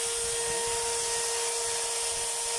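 An armature motor runs with heavily sparking carbon brushes, a loud, steady electrical whine with sharp tonal hum and hissy crackle throughout, no pauses.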